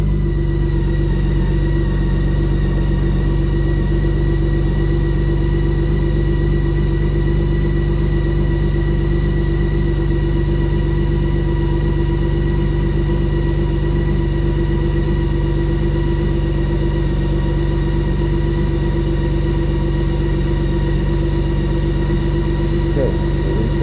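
A BMW K1600 Grand America motorcycle engine idles steadily and loudly, a constant low hum with a droning tone throughout, while a voice speaks faintly.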